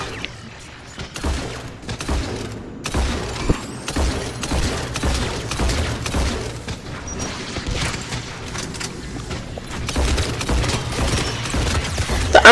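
Gunfire from the M27 Scimitar shotgun in Mass Effect 3, heavy booming shots at irregular intervals with mechanical reload clatter between them, loud and upfront over game ambience.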